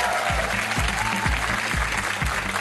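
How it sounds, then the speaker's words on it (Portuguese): Studio audience applause on a comedy game show, a continuous wash of clapping with a low rhythmic thumping beneath it. "uma salva de palmas para Euclides"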